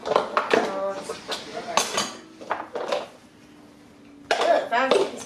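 Dishes, pots and cutlery clatter and clank at a home kitchen sink in several bursts, loud and close, with a pause before a final rattle; voices talk over parts of it.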